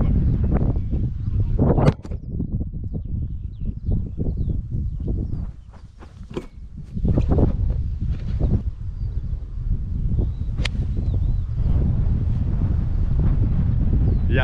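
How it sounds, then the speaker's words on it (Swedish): Strong wind buffets the microphone on a golf course on a gusty day, a loud continuous low rumble that surges and dips briefly before roaring back, with no voices. "Jävlar vad det blåst upp nu."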